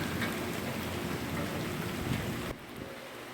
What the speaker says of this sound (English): Rain is rolling into North Texas.